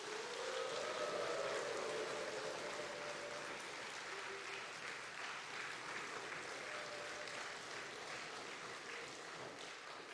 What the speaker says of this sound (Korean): 우리 목사님 나오실 때 크게 광림의 따뜻한 박수로 환영하겠습니다